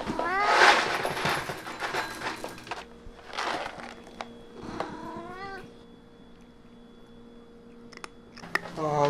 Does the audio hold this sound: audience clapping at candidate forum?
no